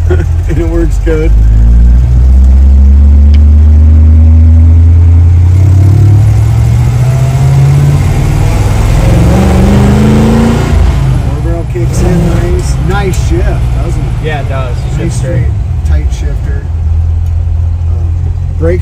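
A 1963 Chevrolet Impala engine rumbles and rises in pitch as it accelerates through gears, loud and close from inside the car, with occasional talking.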